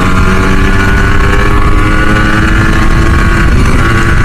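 Yamaha RX100 motorcycle engine revving at full RPM with the throttle wide open, a loud continuous droning roar held steady and close throughout, no talking.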